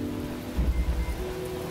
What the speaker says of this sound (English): I don't know if this rain is normal.